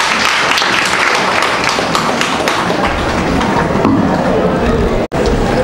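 A warm round of applause from an event audience in Cagayan de Oro welcoming a guest speaker, Mr. Rogelio Crisostomo Evangelista: dense, steady clapping that fills the room and holds at full strength, cutting off abruptly near the end.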